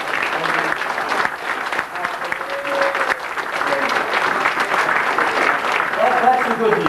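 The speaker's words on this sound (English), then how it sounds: "So would you give a round of applause for" Sustained audience applause fills a dinner hall, a dense steady wash of many hands clapping, loud and continuous, with some voices faintly mixed in.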